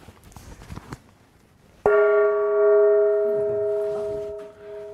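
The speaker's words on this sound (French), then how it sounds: "on va l'entendre ce soir, mon gong. Il est un peu envahissant." A Chinese gong struck once with a sharp attack, then a loud, shimmering sustained ring that hangs on for several seconds, following a little faint talk and rustling beforehand.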